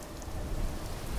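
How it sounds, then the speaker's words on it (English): Steady pouring rain in the video game Fallout 76, a dense, even hiss of downpour that holds at a constant level throughout with no voices. "Now it's gonna be pouring down rain."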